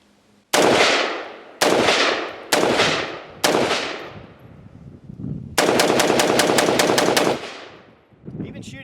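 Cru Arms Temp 556 AR-180 style rifle firing outdoors: four loud separate shots, then a rapid string of about a dozen shots, each with a sharp crack and ringing tail.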